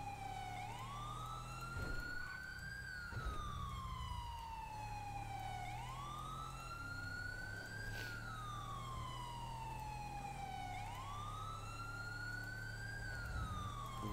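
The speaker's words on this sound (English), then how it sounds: "Yeah, I'm switching this siren back for sure." A police siren in GTA V wails in slow repeating rising and falling sweeps over a low engine hum, faint and somewhat distant, cycling about three times with no talking.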